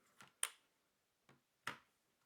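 Small plastic clicks of the adjustable feet on a Ducky One 2 Mini 60% mechanical keyboard being popped out, four faint close snaps in two pairs, nothing else audible.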